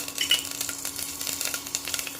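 Crackling sizzle of curry leaves, mustard seeds and cumin in hot tempering oil, with quick popping spatters, close and moderately loud, no talking.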